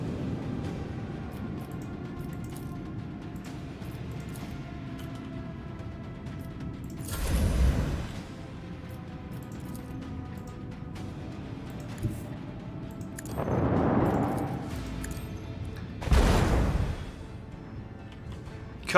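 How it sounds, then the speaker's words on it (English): Explosions in the video game Rogue Trader, heard as three deep, rumbling blasts over steady background music, the first a sharp boom and the last two closer together near the end. "Wow, this is going to be an explosion."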